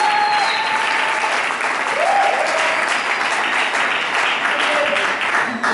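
A church congregation applauds steadily throughout, dense clapping filling the space at an even level, with faint voices mixed into the crowd noise.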